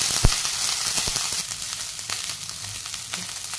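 Sweet corn goes into cumin seeds crackling in hot oil: a sharp thump at the start, then a dense, close sizzle with small pops that fades a little, and no voices.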